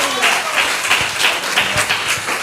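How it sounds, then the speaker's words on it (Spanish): A church congregation claps, a lively crowd of hands with a loose rhythmic beat, moderately loud, with a voice faintly present beneath the clapping. "Démosle palmas al Señor."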